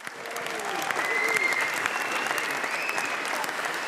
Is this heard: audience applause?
yes